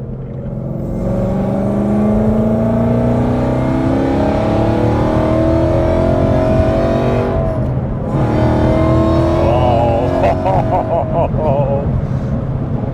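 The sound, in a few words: 862bhp supercharged Ford Mustang GT engine revving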